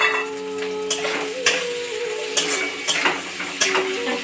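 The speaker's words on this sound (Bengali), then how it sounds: "কাঁচা লঙ্কা আর পেঁয়াজ দিয়ে ফ্রাই করলাম।" Onions and green chillies fry in hot oil with a steady sizzle, broken by repeated scraping stirs of a utensil against the pan at irregular intervals; no one talks.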